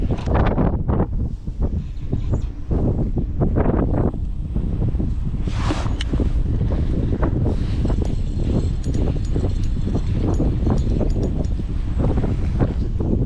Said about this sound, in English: the wind is just piercing you